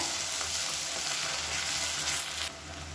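Onions sizzle steadily in hot oil, a close, continuous crackling hiss that softens slightly near the end, with no talk.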